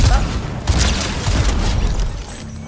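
Rumbling bursts of gunfire and booms in a ranked shooter match, several heavy hits across the span with a dense, muffled crackle and no clear talk over them.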